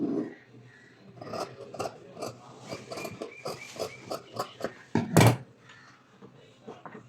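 Scissors snip through fabric while cutting a pleated maxi skirt pattern with seam allowance, giving a run of short, crisp cuts at close range, plus one louder sharp clunk near the end and faint background noise.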